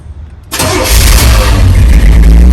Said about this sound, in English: start it right now and show you how well it starts, because it starts really well